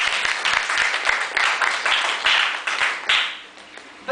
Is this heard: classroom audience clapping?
yes